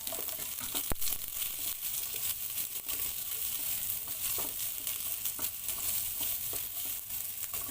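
Chopped onions sautéing in a pan for a Filipino stir-fry of string beans with pork, a steady close sizzle with occasional crackles and scraping stirs throughout, no talk.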